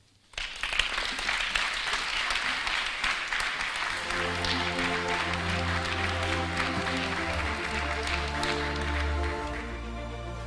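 A hall audience applauds winners and nominees at a 2021 regional business awards gala, with dense sustained clapping that starts suddenly and holds steady while music rises underneath partway through.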